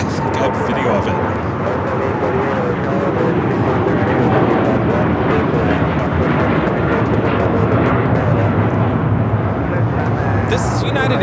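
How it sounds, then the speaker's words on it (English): United Airlines Boeing 787-9 Dreamliner taking off at LAX, a broad continuous engine roar filling the whole stretch, loud and steady, with talk over it. "This is United Airlines Flight 32 taking off to Tokyo Narita on the 787-9 Dreamliner."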